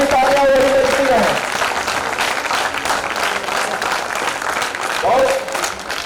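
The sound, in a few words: audience applause continuing in honour of Hindi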